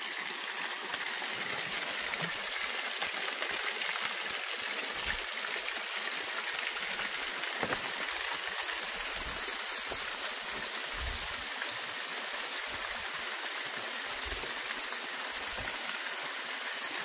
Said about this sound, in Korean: 마지막 폭포, 12번째 폭포, 실폭포입니다.